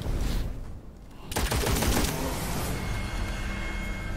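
Rapid gunfire in the shooter game Witchfire, a dense loud burst of shots that drops briefly and then returns as a sustained roaring volley with ricochets, close and continuous, with no voice.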